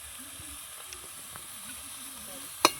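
Eggplant and flat beans fry in a pan with green chili and salt, giving a soft, steady sizzle at low volume. One sharp utensil clack sounds near the end.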